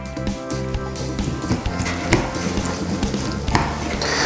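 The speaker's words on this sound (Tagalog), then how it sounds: "Tapos, hahaluin ko lang mabuti ito." Mayonnaise is stirred into a chicken sandwich spread in a bowl, making steady close scraping and squishing sounds with soft rhythmic utensil taps against the bowl, with no talking.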